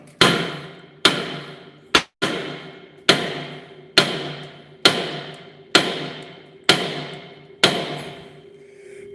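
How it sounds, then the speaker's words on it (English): Heavy hammer blows strike a stuck flywheel on an old Kohler engine of a welder generator, ten loud metallic whacks at a steady one-second rhythm, each ringing briefly, with no talking. "I've tried smacking the thing with that big hammer too"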